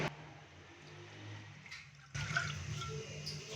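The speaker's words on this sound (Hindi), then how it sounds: "चाशनी तैयार करने के लिए अभी पैन के अंदर हम 1 कप पानी डालेंगे।" About a cup of water is poured into a pan to start sugar syrup for Shahi Tukray. The steady, splashy pour starts abruptly partway through and runs to the end.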